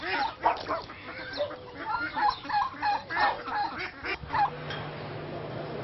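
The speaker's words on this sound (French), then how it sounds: "Mais on continue, nous, d'entendre ces canards." Ducks quacking in a busy cluster, repeated nasal calls overlapping steadily for several seconds at moderate distance, with a low hum underneath.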